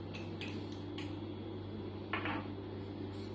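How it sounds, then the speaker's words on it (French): A melted soap base is stirred together with calendula macerate and other ingredients in a container for homemade solid soap, giving a few faint, spaced metallic clinks and scrapes over a steady low hum. "on va juste venir mélanger l'ensemble de nos ingrédients en fait à la préparation"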